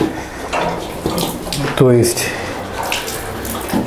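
Water running from a pipe into a pig pen, a close, steady trickling and splashing beneath a man's speech, with clattering knocks.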